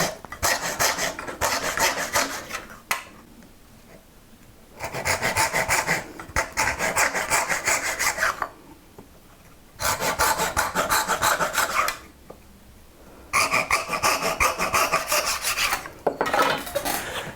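A hand saw cutting dovetails in wood against a magnetic dovetail guide: four bursts of steady rasping strokes, each lasting two to three seconds, separated by short quiet pauses, close and clear with no talking.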